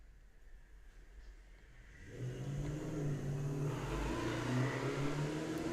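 A car passing outside, rising from quiet into a louder engine hum and whir in the second half, heard faintly as if through a window indoors.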